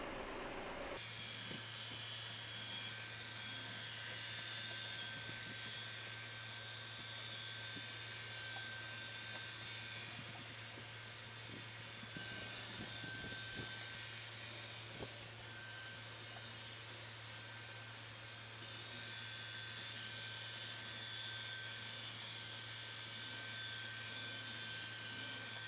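Midea M7 Pro robot mop vacuum scrubbing a floor with a vibrating mop pad, a steady close whirring motor hum with a constant tonal whine, fairly quiet and uninterrupted for the whole stretch.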